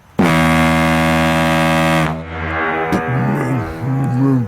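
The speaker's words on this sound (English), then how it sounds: "He's testing out a big Foghorn in his garden." A big foghorn tested in a garden blasts one long, loud, steady tonal note for about two seconds, followed by rumbling and scattered noises as people talk close by.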